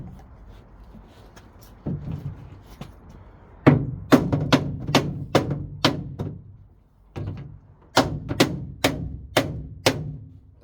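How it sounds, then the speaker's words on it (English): Hammer blows on the door of a pink Jeep, sharp loud thunks in irregular bursts, first a few scattered strikes then two rapid runs of about six hits each, close by with no talk. "So now I'll put a hammer on this side"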